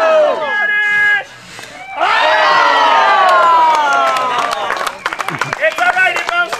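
A crowd of children at a Doktor Kaboom science show shouts a name together loudly and excitedly, with a short pause and then a longer burst of cheering, followed by scattered claps and calls.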